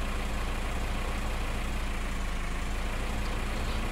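Massey Ferguson 698 tractor in Farming Simulator 15 driving with a steady, continuous low engine drone and even rumble throughout, no talk over it.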